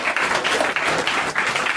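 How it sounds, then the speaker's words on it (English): An audience applauds at a hardware talk, continuous dense clapping throughout, moderately loud and unbroken. "Let's have a big round of applause,"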